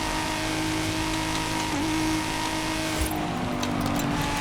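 Stock Nissan GT-R Skyline in Forza Horizon 5 holding a steady engine drone at speed, with a short shift or blip near the end and continuous road noise underneath, no speech.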